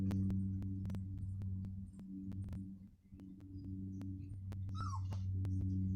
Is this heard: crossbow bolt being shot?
no